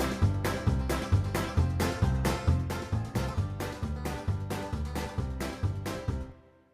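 Yamaha Genos 2 keyboard backing in a bouncy country style: a steady two-beat rhythm of bass notes and chord stabs with drums, fading out at the end.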